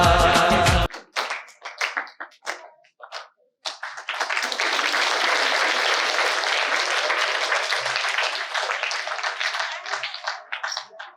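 Audience at a school Republic Day celebration bursts into loud, sustained applause after a performance, following the tail of a song and a few scattered claps, with the clapping steady and dense for several seconds.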